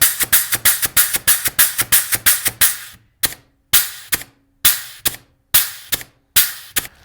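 Grease gun trigger pulls on a shop steering linkage job, each pull giving one sharp mechanical click-thump: a fast even run of about fourteen shots, then slower separate pulls with brief gaps, loud and close with no voices.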